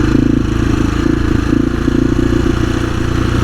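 An adventure motorcycle's engine runs loud and close with a steady, throbbing mechanical drone and a slight revving edge, with no one speaking.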